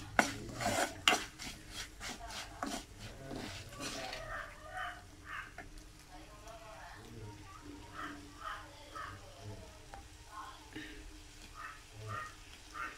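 Prawn masala is stirred in a pan with a metal utensil, starting with a burst of clanks against the pan, then settling into softer, rhythmic scraping strokes at low volume.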